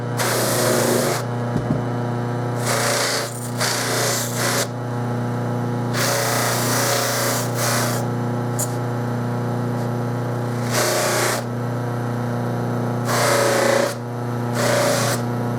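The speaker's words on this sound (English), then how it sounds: "Now I'm going to go back to the buffing wheel and clean off all the tarnish." A buffing wheel polishes tarnish off a brass brace, a loud steady whirring hum broken by repeated harsher bursts of rushing friction as the metal is pressed against the wheel, with no talking.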